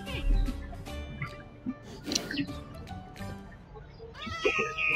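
Two cats meowing in the video game Minecraft, several short mews scattered across the stretch, mixed with other game sounds while someone talks over them.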